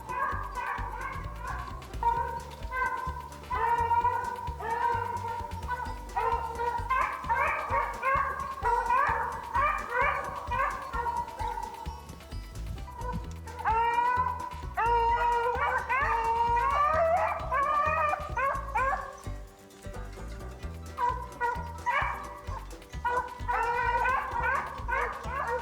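Hunting dogs bay and yelp in a continuous, overlapping chorus while chasing a hare outdoors. The howls rise and fall throughout and sound fairly close.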